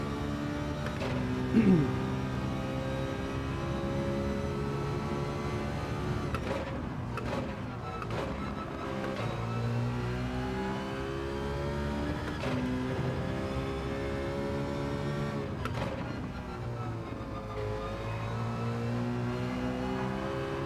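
Race car engine in Gran Turismo 7, a continuous moderate whine rising and falling through gear shifts and corners, with a few short clicks and light talk over it.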